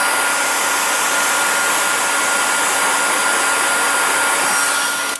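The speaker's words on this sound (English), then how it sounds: "It's amazing how noisy this little diode laser is." Small diode laser scorching wood, giving a steady, loud broadband whir like a fan or blower, constant and unbroken throughout with no talk.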